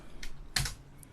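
A few quick computer keyboard keystrokes while naming a collection in Blender, two or three soft close clicks in a short burst, no talking.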